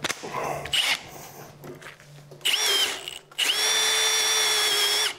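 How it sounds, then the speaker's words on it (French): A Milwaukee M18 cordless drill with a 5 amp battery boring into oak. Several short bursts of whining motor are followed by a longer, steady, loud run close by. "cette machine n'a aucune difficulté pour le perçage donc, dans du chêne"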